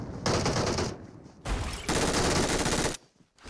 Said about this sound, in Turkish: Ben vuracağım şimdi